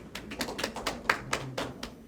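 Sparse, light applause from a forum audience welcoming a speaker at the 2021 Incheon Smart City e-Forum, with a few scattered claps repeating irregularly at low volume and no voices.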